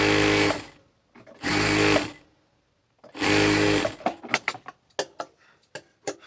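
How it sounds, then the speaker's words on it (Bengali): Three loud, even bursts of a sewing machine stitching the bottom hem of a kameez, each about a second long with short gaps, followed by a scatter of sharp clicks and taps as the fabric is handled. "এখন আমরা নিচের হ্যামটা আগে সেলাই করে নিই"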